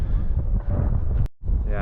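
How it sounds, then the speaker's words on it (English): Steady, heavy wind buffeting the microphone in a continuous low roar at Thunder Valley motocross track, briefly cutting out near the end before gusting back in. "it's super windy out here too"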